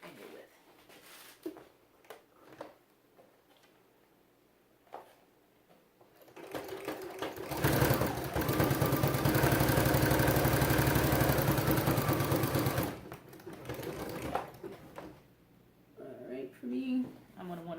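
Sewing machine fitted with a walking foot stitching T-shirt sleeves: a loud, steady mechanical whir of several seconds in the middle, with a person talking and handling fabric before and after the run.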